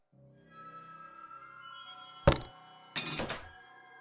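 A gun hitting the floor in the point-and-click horror game The Cat Lady (2012): one sharp thunk, then a brief rattling clatter, heard faintly over a quiet humming background.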